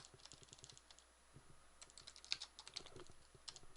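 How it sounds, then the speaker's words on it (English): Rapid, uneven typing on a computer keyboard, close and fairly quiet, with irregular clusters of key clicks and brief pauses. "I'm not typing very accurately today"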